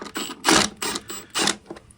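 An impact gun rattles off plastic belt-cover bolts on a 2023 Can-Am Outlander 700, four or five short close bursts in quick succession with brief pauses between.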